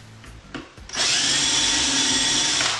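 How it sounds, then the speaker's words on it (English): A power drill bores a hole for a Grass 830 cabinet hinge during a soft-close upgrade, starting with a few brief handling knocks, then running loud and steady with a high whine that holds for nearly two seconds. "drill another hole."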